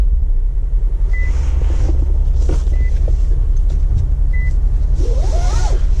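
Infiniti Q60 3.0T Turbo starting up: a steady low engine rumble fills the cabin, with a few short electronic chimes and faint whirring as the car comes to life, no talking.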